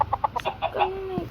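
Chickens clucking in short, rhythmic bursts at close range, a handful of quick clucks followed by a longer drawn-out call, fairly quiet with no talk over them.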